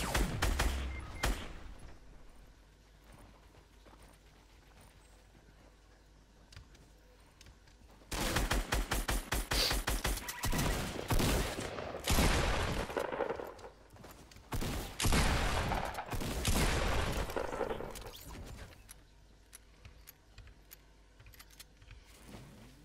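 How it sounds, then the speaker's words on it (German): Gunfire in the video game Fortnite, arriving as loud, dense volleys of rapid broadband shots in the second half after a quieter stretch of faint game ambience; no one speaks. "jetzt ein Schuss"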